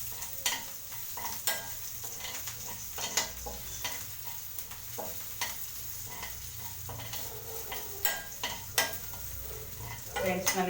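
Onions fry and sizzle in a pan while being stirred for a home-cooked lunch of rice and sambar, a steady crackle broken by frequent scraping and clinking spoon strokes against the metal, close and moderately loud.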